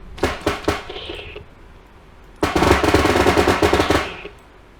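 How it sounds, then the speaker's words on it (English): Rapid bursts of gunfire in the video game Bodycam, a short volley of separate shots, then a longer sustained automatic burst, loud and close. "Sounds like firecrackers, doesn't sound like a gun."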